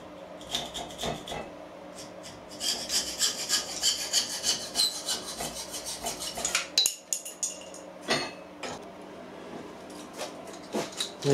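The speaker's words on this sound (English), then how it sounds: "I just cut them off with a hacksaw" Hacksaw strokes rasping through metal tripod legs, irregular back-and-forth scraping with pauses and a few clanks between bursts.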